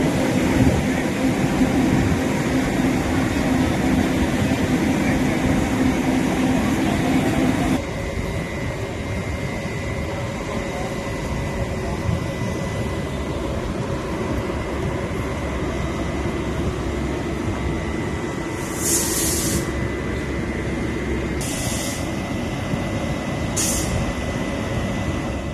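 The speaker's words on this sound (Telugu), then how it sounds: "విశాఖ నుంచి హైదరాబాద్ వెళ్తున్న జన్మభూమి ఎక్స్ప్రెస్ సాంకేతిక కారణాలతో నల్గొండలో సుమారు గంట పాటు నిలిచిపోయింది" The Janmabhoomi Express, running from Visakhapatnam to Hyderabad, stands halted at Nalgonda station with an engine fault, giving off a steady low rumble and hum of idling railway machinery, then quieter ambience with brief hissing bursts like air brakes.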